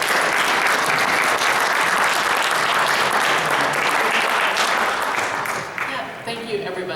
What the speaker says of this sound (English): give a welcome round of applause for Jennifer.